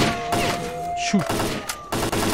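Gunfire in the video game STALKER: Clear Sky during a fight against zombies, with a few sharp, loud bursts of shots separated by short gaps and a low thud in between.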